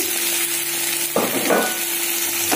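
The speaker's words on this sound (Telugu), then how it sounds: "ఇలా బాగా ఫ్రై అవ్వాలి" Egg curry base with drumstick frying in a pan, a close steady sizzle with a burst of stirring and scraping midway, no voices.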